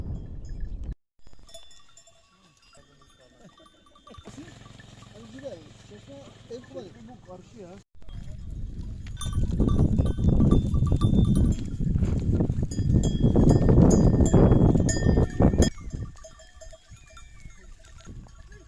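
A large herd of around 600 goats roams a hillside of stone pines, with clanking bells and occasional bleats over steady outdoor noise that swells louder midway, while people talk.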